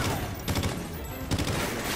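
Rapid bursts of gunfire in the Call of Duty: Ghosts video game, two clusters of shots standing out over a dense, continuous battle din.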